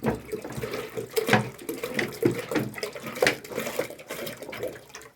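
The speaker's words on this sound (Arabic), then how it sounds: "املي ميه واركنيها كده على قد هما ما بيشربوا." Tap water runs into a drinking container for chickens, a steady close splashing and gurgling stream with uneven surges and no talk.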